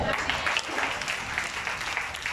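A church congregation claps and cheers in praise of Jesus at an evangelical service, a steady, dense wash of applause with crowd voices mixed in throughout.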